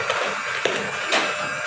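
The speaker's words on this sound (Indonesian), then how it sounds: "Ini di mixer di kecepatan tinggi ya." A mixer runs at high speed, beating eggs, SP emulsifier, sugar and flour together for a rolled sponge cake batter. It makes a steady, close whirring hum broken by a few sharp clicks as the beaters knock the bowl.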